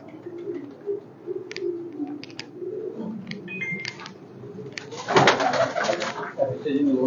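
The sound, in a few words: pigeons cooing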